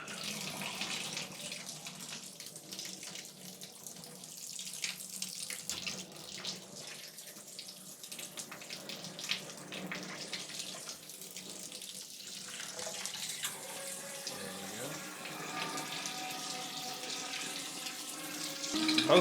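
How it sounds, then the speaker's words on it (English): Water runs steadily from two shower heads in a tiled shower during a home inspection, a continuous close hiss and splash with no talking. "Both of our shower heads are working."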